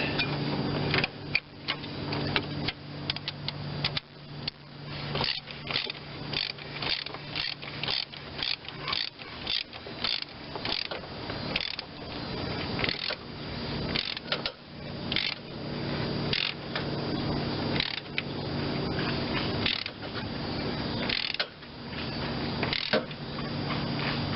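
A hand ratchet clicks steadily as it screws a replacement part into a 1993 GM S10 pickup, producing a close, fairly quiet run of rapid ticking strokes with brief pauses throughout.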